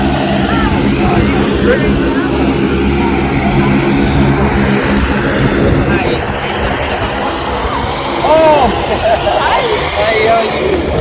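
Safarilink propeller airplane on the ground just after landing, its engine droning loud and steady close by throughout, with a broad roaring wash that swells slightly near the end.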